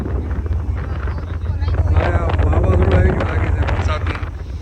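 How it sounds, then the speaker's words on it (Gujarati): Strong wind buffets the microphone in a steady roar on the deck of a Ro-Ro ferry from Hazira to Gogha, with an engine rumble and splashing water beneath and voices faintly audible. "પવન મસ્ત આવે"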